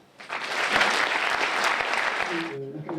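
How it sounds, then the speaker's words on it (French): Audience applause for the mayor at a municipal New Year's greetings event in Luçon, France: a dense burst of clapping that starts quickly, holds steady and loud for about two seconds, then fades out. "je crois qu'on peut l'applaudir."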